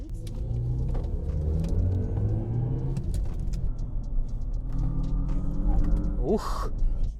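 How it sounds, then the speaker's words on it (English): A 2024 GMC Hummer EV accelerates hard, giving a continuous low rumble with a rising electric whine that climbs in pitch over several seconds, under a short voiced sound near the end. "It lowers the rear end like this when you hit the gas hard"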